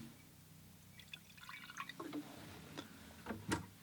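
Painting-water container for watercolor: faint, sparse drips and small trickles of water, quiet and close, with soft splashes building slightly near the end.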